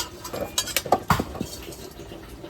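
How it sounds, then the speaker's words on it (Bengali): A metal kadai set down on a stovetop, heard as a few close clanks and scrapes of metal cookware, with no talking. "সবার ফার্স্টে কড়াইটা বসিয়ে দিই"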